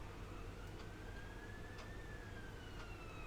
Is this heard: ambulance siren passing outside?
yes